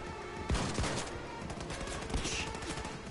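Fully automatic dual shotguns fire in a World War II shooter game, with loud, rapid, overlapping blasts in quick succession close up and a dense rattle between the bursts.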